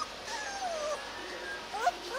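Rottweiler puppies in a litter of eight whimper and yip in high, wavering cries, several short whines rising and falling over a quiet room.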